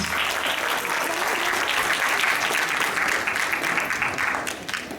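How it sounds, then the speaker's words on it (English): Sustained applause from an audience at a youth camp final presentation, loud and steady throughout with dense clapping, fading slightly at the very end. "Let's give them another round of applause."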